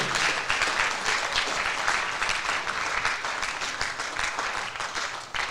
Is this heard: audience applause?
yes